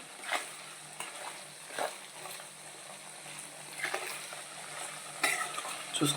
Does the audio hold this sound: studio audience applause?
no